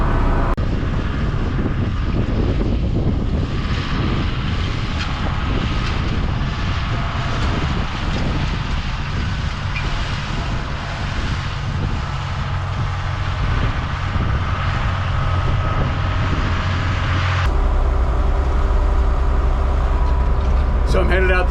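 A vintage Oliver tractor runs steadily while disking a field, a loud, continuous low engine drone close by that shifts slightly in tone partway through, with someone talking over it.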